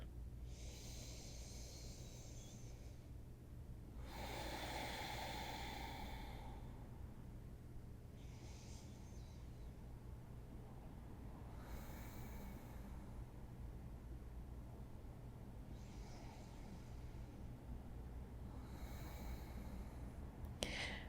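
Slow, deep yoga breaths during a gentle session, several long hissing inhales and exhales spaced a few seconds apart, soft and close against a quiet background.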